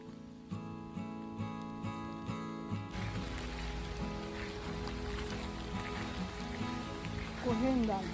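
Heavy rain falls steadily as two people in raincoats and helmets walk through Badagamuwa forest, a dense broadband hiss with a sharper tonal passage in the first few seconds and a brief voice-like sound near the end.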